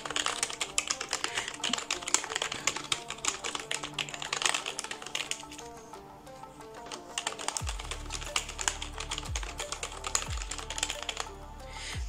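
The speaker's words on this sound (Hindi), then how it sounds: "तो मैं इसकी जो है साउंड की सुना देता हूँ, ठीक है दोस्तों, इसकी जो साउंड की है वो इस टाइप की मिल रही है।" A Redragon K512 Shiva RGB backlit membrane gaming keyboard is typed on rapidly, giving a dense, continuous clatter of soft key presses up close. Some heavier low thumps join in near the end.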